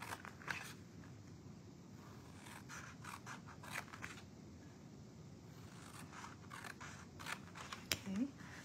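Scissors cut through paper cardstock for a stamped holiday card project, giving a few short, quiet snips and scrapes at a steady close range over a low background hum.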